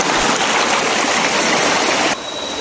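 Stream flowing near a hidden waterfall at Camp AWOL on a jungle hike, a loud, close, continuous rush of water that drops slightly in level near the end.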